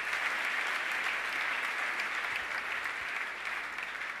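A church congregation claps in sustained applause, a dense, even wash of many hands at close range that continues without a break.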